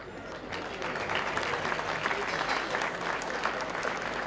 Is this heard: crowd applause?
yes